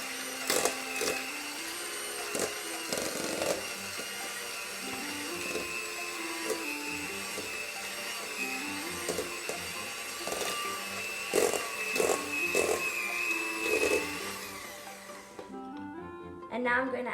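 Electric mixer creaming butter and cream cheese for frosting, a steady whirring drone running nearly continuously at a moderate level with a voice over it, cutting off near the end.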